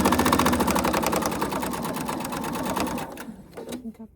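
A sewing machine runs steadily, stitching a quarter inch seam while chain piecing a mini wallet, its rapid mechanical whir loud and close for about three seconds before slowing and stopping with a few last clicks.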